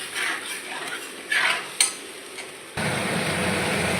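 Turmeric and salt spice masala is stirred in a frying pan with utensil scrapes and a soft sizzle, then steady frying hiss takes over for the final seconds, with no talk.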